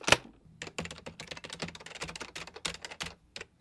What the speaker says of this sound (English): No, I'm typing a little something else here.